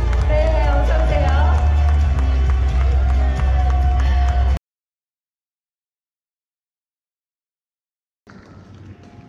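Audience applause and cheering welcome actress Lee Da-hee onstage at a Porsche VIP event, a loud, dense crowd roar for about four and a half seconds that cuts off abruptly, then a fainter murmur returns near the end.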